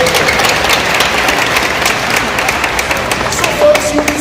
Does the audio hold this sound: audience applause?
yes